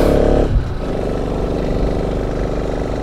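A motorcycle engine revs steadily and loudly with a rough, clattering drone; the bike is losing pulling power with a suspected burnt clutch plate on a trip around Sikkim.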